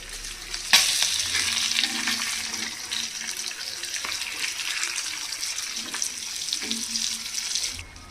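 Korrameenu fish pieces fry in hot oil with a loud, continuous sizzle, punctuated by a few sharp clatters and scrapes as the pieces are gently turned in the pan, close up with no talk.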